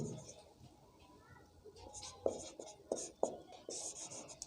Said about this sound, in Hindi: तो यहाँ पर लिखेंगे उदाहरण